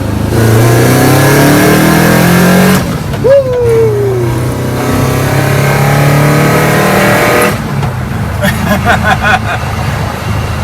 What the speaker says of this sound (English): I didn't think you'd go that fast in a Volkswagen bus.